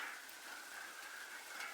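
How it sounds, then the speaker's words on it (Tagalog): Steady rain falling outdoors on a banana planting plot, a soft continuous hiss with no individual drops standing out, fairly faint and uninterrupted. "Ay Bambi, uwi na kayo, umuulan."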